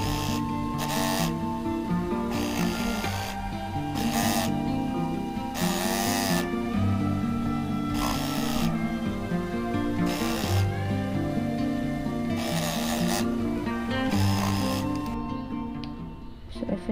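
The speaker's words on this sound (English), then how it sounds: "I'm just going to stitch the whole thing on both the sides." A sewing machine stitches both sides of a fabric shopping bag, its whirring runs coming in short repeated bursts a second or two apart over steady background music.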